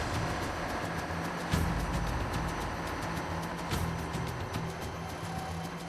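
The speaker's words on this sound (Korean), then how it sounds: "엔진이 분주히 움직이자 검사원들도 바빠지기 시작했다" The engine of the Dongbang Ace, a ship just floated out of a repair dock, runs steadily during inspection: a dense, continuous mechanical rumble and hum with faint periodic ticking, close and constant, with no voices.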